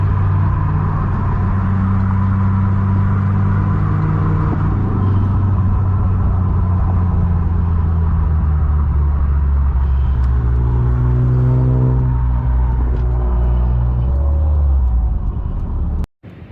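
A turbocharged 3.0T car engine at a car meet rumbles loud and close, its pitch rising and falling through long revs and accelerations before cutting off abruptly at the end.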